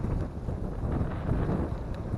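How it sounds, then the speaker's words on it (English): Strong wind buffeting the microphone with a constant low roar and rumble, loud and close throughout. "But it does get super windy over here."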